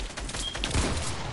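Brief burst of video game gunfire, a quick cluster of close shots with a sharp crack near the middle of the burst.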